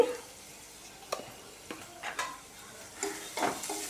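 A spoon stirs cabbage coconut curry with turmeric, chili powder and salt in a frying pan, giving a handful of soft, irregular scrapes and clinks over a faint sizzle, close by and quiet, with no talking.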